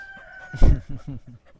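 A chicken clucks loudly up close in a short burst of several rapid calls, fading quickly.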